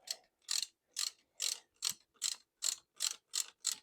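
A ratchet clicks in a steady rhythm, about nine or ten sharp, even ratcheting strokes, while it turns a long bolt on a 1981 Ford Cortina Estate. The strokes are close and fairly quiet, with no talking.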